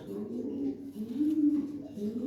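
Hammer pigeon cooing, low rolling coos rising and falling in a near, continuous murmur, with a faint voice in the room.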